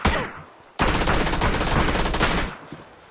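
A rapid burst of video game gunfire, loud and continuous for about two seconds after a brief quieter lead-in.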